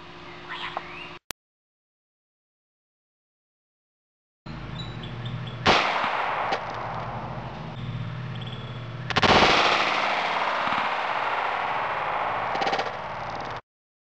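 A Taurus PT-845 pistol fires .45 ACP Winchester Ranger-T 230 grain hollow points at a testing range, loud sharp cracks with bursts of reverberant noise and silent gaps between.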